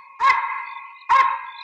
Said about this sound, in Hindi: एक कुत्ते पुलिस वालों को देख के क्यों भौंकते हैं?